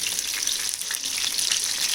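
Thin minced-meat keema kababs frying in hot oil, giving a dense, continuous close sizzle that stays even and loud, with no voices over it.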